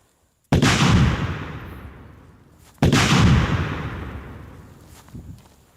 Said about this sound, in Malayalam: ഒരു ഡൗൺ റേഞ്ച് പ്രൊപ്പെയിൻ ടാങ്ക് ഞാൻ അതിലേക്ക് വെടിവെക്കാൻ പോകുന്നു.